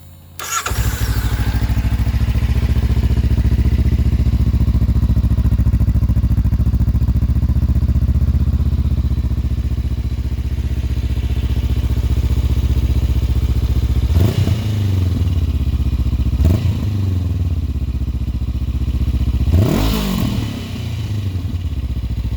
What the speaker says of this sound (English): I'm not out to get any really loud decibels off of this bike, and this sounds pretty mellow.